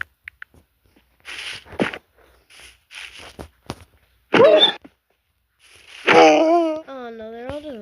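In a video game, a wolf pup gives a few sharp yips and barks, then a longer whining howl, mixed with brief rustles and footsteps and a person talking.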